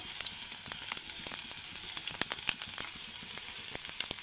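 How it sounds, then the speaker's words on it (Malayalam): Hot cooking oil sizzles steadily in a pan while a Kerala dish of agathi flowers is prepared, a continuous bright hiss with scattered crackles and pops throughout, close and fairly loud with no talking. "ആദ്യം നമുക്ക് ഓയിലൊഴിച്ച് കൊടുക്കാം"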